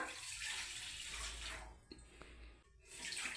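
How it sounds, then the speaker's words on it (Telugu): Water poured into a bowl of oil, sugar and salt while making puri dough at home, a steady splashing pour through most of the moment that briefly thins out and resumes, close and moderately loud. "తర్వాత ఇగోండి వాటర్ వేసుకుంటున్నాను."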